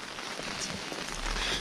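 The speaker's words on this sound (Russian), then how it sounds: "Сейчас идет дождик" Steady light rain falls on the oldest street in Bremen, Germany, as a continuous even hiss with no speech.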